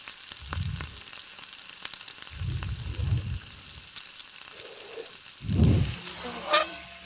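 Chopped tomato with ginger garlic paste frying in a pan, a soft sizzle broken by several low thumps of a spatula stirring, with faint scraping near the end.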